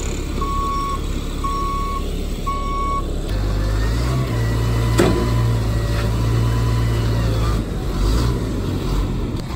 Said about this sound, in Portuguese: E o caminhão tá chegando ali.